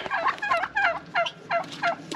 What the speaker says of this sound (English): here's our turkeys